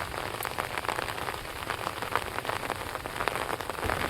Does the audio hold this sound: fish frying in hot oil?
no